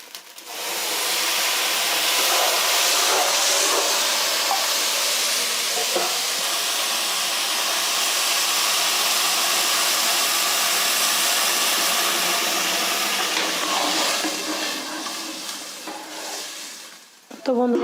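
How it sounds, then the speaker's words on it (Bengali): Water poured into a hot pan of fried rice and lentils sets off a loud, steady sizzling hiss that holds for many seconds and then eases off near the end. "এখন আমি দিয়ে দেব জল।"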